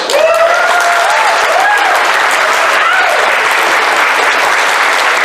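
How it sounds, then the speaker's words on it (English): Loud, steady applause from a large TFNation convention audience fills the whole stretch, with a few whoops and cheers rising over the dense clapping. "Give him a round of applause"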